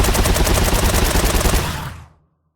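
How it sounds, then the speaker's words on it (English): Rapid automatic gunfire in a first-person MOBA game built in Unreal Engine 5, a dense stream of sharp, evenly spaced shots at close range, ending in a quick decay to silence. "here's how my gunshots sounded before meta sounds"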